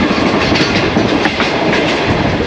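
Shalimar Express passenger train rolling along the rails between Karachi and Nawabshah, a loud, steady close-up rumble with continuous wheel clatter and no talking.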